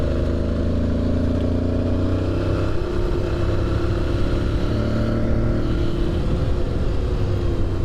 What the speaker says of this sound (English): What makes this Aprilia so fun is that noise, that engine noise.